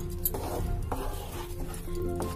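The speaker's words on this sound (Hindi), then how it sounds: "इसको चलाते रहें नहीं तो ये जल जाएगा और हल्की आंच पे इसको" Jaggery melting in a pan over a low flame is stirred with a utensil, giving soft scraping strokes and a faint sizzle that runs steadily and close throughout.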